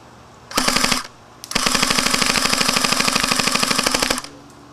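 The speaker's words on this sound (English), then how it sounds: "The rate of fire on the MP7 is actually pretty good, as you can hear and see." A WELL MP7 A1 airsoft gun fires on full auto, first a short burst and then a longer sustained burst of rapid, evenly spaced shots, loud and close, with no talk.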